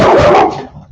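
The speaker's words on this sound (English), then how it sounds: "Apologize for the barking" A dog barks loudly and close by, a single short bark with a brief whimpering tail.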